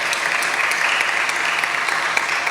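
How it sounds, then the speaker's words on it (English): A crowd claps steadily in a dense, continuous burst of applause at a school netball awards event, loud and sustained throughout with no pauses. "That deserves a round of applause."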